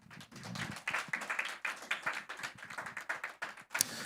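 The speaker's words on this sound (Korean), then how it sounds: "우리 사역자들한테 박수 한번 주세요" A church congregation claps for several seconds, a dense, uneven patter of hands at moderate volume without talking.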